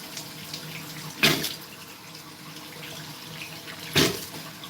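Tap water runs steadily for a salt-water nose rinse, a close, even wash with two brief, louder splashy bursts about three seconds apart.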